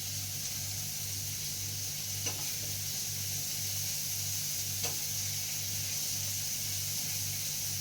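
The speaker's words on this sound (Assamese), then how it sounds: "বিলাহীটো দি দিওঁ একেলগে ফ্ৰাই কৰাৰ সময়ত।" Tomato frying in a pan with a steady, even sizzle throughout, a low constant hum underneath and a couple of faint clicks of utensils.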